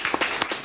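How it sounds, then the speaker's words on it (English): Small group claps for a few boys after a football keepy-uppy session, a handful of quick, close, uneven hand claps over a brief moment. "give yourselves a big applause, boys, for what you said"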